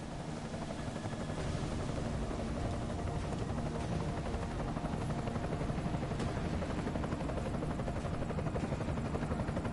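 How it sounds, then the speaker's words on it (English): An enemy helicopter in a video game drones steadily, its rotor and engine wash loud and continuous throughout, with no speech over it. "Enemy helo sighted."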